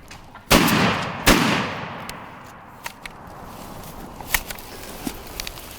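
Two loud shotgun blasts during a spring turkey hunt, close and sharp with echoing tails, followed by quieter rustling, footsteps and small knocks in the woods.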